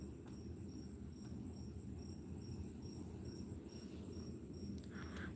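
Crickets chirp outdoors at night in a steady, regular pulse of faint high trills over a low background rumble, with no voices.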